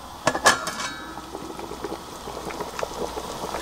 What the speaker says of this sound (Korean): 지금 한 40분 끓이고 있는데요.